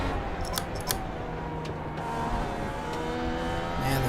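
A Dallara IR18 IndyCar engine in iRacing drones under partial throttle, its pitch rising and falling as power is fed in, with faint clicks and wind noise over a steady close engine tone.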